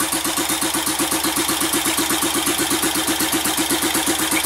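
A Vincent Rapide motorcycle engine fitted with OKO carburettors and no muffler idles steadily and loudly up close, its rapid even firing pulses forming an unbroken rhythmic thrum.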